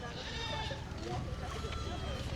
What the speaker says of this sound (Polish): Po lewej stronie są kozy.